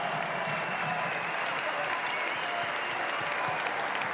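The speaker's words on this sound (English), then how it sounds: "merci encore une fois d'applaudir Casper Ruud, qualifié pour la finale de Roland-Garros" Steady, dense applause from a large crowd at the Roland-Garros tennis stadium after a semifinal win, a continuous even wash of clapping with no break for its full length.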